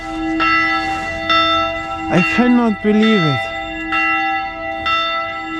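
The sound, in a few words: church bells ringing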